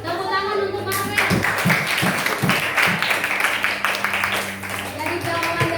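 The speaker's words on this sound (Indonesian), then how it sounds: "Tepuk tangan untuk Marvel." Classroom applause for a student, a burst of clapping hands from many pupils that starts after a second and continues steadily under a teacher's speech.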